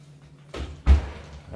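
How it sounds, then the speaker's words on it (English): An oven door opens to take out a baked apple, a quick clunk followed by a louder thud, close and brief with no talking. "now it's time to take the baked apple out the oven"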